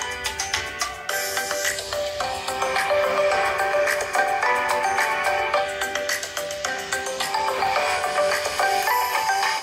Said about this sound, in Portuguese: E este é o som do celular com o alto-falante caseiro.